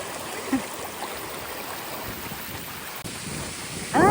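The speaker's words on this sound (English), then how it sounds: "I'm getting so much splashback on my face from the waterfall with the wind blowing this way." A waterfall in New Zealand roars as a steady broadband rush of falling, splashing water, with wind gusting across it and a brief louder burst near the end; no talking.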